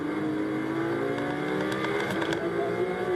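A Ferrari Challenge race car laps the Valencia circuit, its engine note loud and sustained with steady harmonic whine and slight pitch shifts through a long downhill left-hander.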